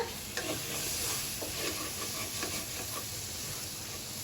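Tomatoes and fresh curry leaves frying with masala in a pan for a Kerala-style mutton curry, a steady close sizzle with scraping stir strokes throughout and no voices.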